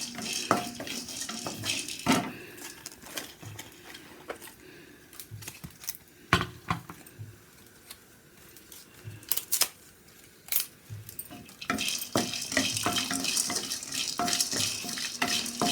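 Spices fry in a pan for fish biryani under a low sizzle, punctuated by irregular clinks and scrapes of a utensil against the pan, close by, growing busier toward the end.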